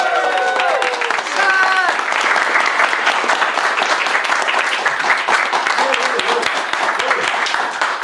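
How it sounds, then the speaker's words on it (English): Live event audience at the end of a Roundtable stream clapping continuously, a dense steady round of applause with some cheering and voices mixed in. "You can stop clapping."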